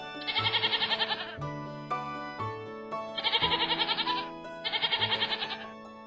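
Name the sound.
goat bleating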